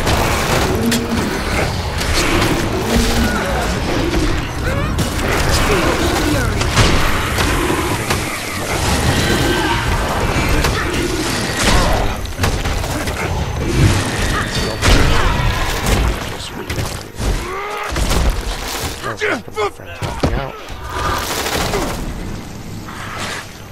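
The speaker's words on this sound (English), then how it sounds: "the cannonballs hit me" In a Guild Wars 2 PvP match, cannonballs pound the player. Dense, continuous booms and thuds mix with rapid gunfire-like bursts and combat noise for over twenty seconds.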